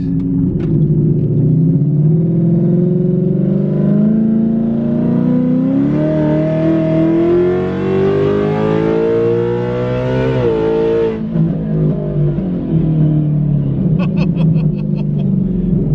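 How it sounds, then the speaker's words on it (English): A Steeda-tuned 2018-2019 Ford Mustang with a naturally aspirated engine accelerates hard, its loud rumbling exhaust note climbing steadily through the revs, dropping at a shift, then pulling again, close and dominant. "this car gets so fast so quickly"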